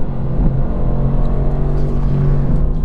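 A Mercedes-AMG GT R engine roars steadily on the Bilster Berg track, a loud, close, continuous growl with rising revs throughout, no voices present.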